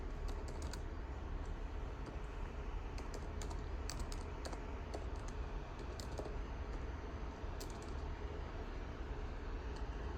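A computer keyboard clatters with scattered light keystrokes in short bursts as a website domain name is typed. The clicks are faint against a steady background hum, and no one speaks.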